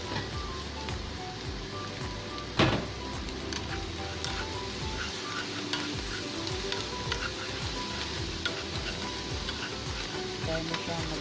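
Fish sizzles steadily in hot oil in a pan, giving a constant close crackle and spit with small pops and one sharper clatter early on, while a voice speaks faintly in the background.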